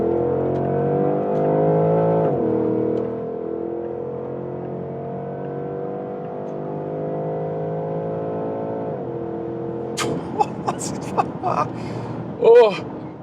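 A 2025 Porsche Panamera GTS cruises on the Autobahn, its steady engine and road drone holding level throughout, with a brief shift in tone and a burst of louder clatter and wind noise near the end.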